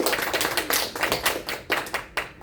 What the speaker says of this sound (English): We do a round of applause.